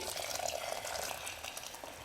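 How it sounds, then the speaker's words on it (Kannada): Hot water is poured into a pan of frying sprouted horse gram, making a quiet, brief, rushing splash and hiss that holds steady for about two seconds. "ನಾನು ಬಿಸಿನೀರು ಹಾಕಿದ್ದೀನಿ"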